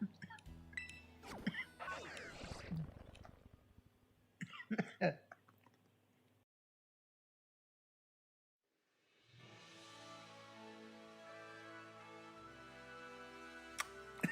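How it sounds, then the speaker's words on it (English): A few sharp coughs mixed with laughter in the opening seconds, close and loud, then a brief silence followed by a steady background tone. "I coughed it at the wrong time while I was laughing"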